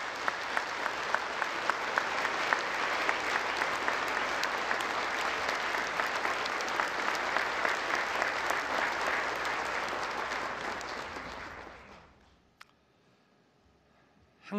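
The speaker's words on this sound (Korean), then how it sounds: "윤석열 대통령 뜨거운 박수 부탁드립니다" A large crowd at a national prayer breakfast claps warmly for the South Korean president, a long sustained wave of applause that fades out near the end, followed by near silence and a faint knock.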